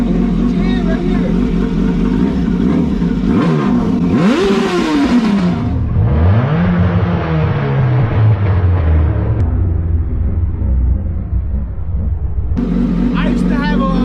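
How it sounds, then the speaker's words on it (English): A loud motorcycle engine revs up and down in a few throttle bursts, rising and falling in pitch, over a steady idle with people talking nearby. "when his child revved the engine"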